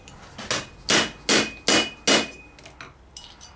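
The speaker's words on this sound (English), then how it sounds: "I strike the hammer with a rawhide" Rawhide mallet blows on a metal gothic gauntlet knuckle gadling, about five sharp solid strikes in a steady rhythm, close and loud, followed by a few lighter taps.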